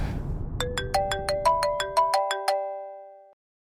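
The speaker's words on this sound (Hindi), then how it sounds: "आ गया फोन।" A phone ringtone chimes as a rapid series of bright, bell-like electronic notes in a quick melodic run, each note ringing on and decaying, with faint background noise at the start.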